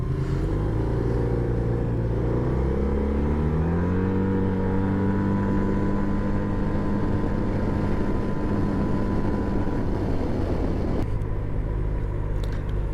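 Maxi scooter engine running continuously, a steady droning hum that rises smoothly in pitch with no gear-change breaks, close and moderately loud.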